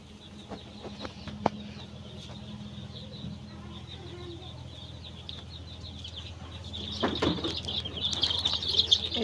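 Baby chicks cheep in high, thin peeps throughout, being fed water mixed with vaccine, with someone talking over them and the chirping growing busier near the end.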